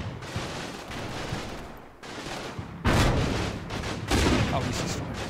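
Gunfire crackles through a video game battle during a counterattack in an Italian fortress: a steady din of shots under a voice, with two louder, denser bursts of fire breaking out near the middle and toward the end.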